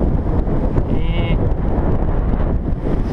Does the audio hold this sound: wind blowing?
yes